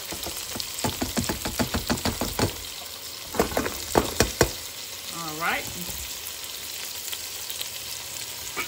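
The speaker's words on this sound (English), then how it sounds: "I'm going to add my onions and bell pepper." Onions and bell pepper sizzle and crackle in a hot pan, with scraping stirs in bursts; a voice speaks briefly partway through.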